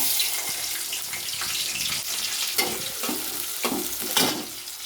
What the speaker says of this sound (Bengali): এখন দেখেন আমি পেঁয়াজ কুচি দিয়ে দিচ্ছি